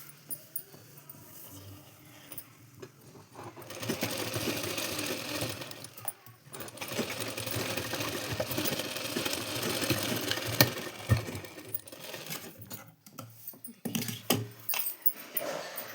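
A sewing machine stitches a blouse seam in a steady whirring run that stops and restarts, with small clicks and handling noises in between.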